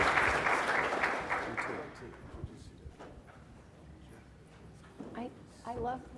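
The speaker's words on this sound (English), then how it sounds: "round of applause for our speakers then" An audience at a broadband connectivity and economic development event claps warmly for its speakers. The applause fades out within about two seconds, and then voices begin talking quietly.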